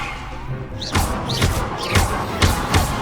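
Levioso spell casts in the video game Hogwarts Legacy, about five sharp swooshing thuds in a quick uneven series over steady game ambience, each with a rising whistle-like shimmer.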